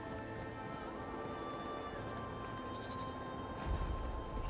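A goat bleats in the video game Elder Scrolls Online, set against dense ambient game music and environmental sound, with a soft thump near the end.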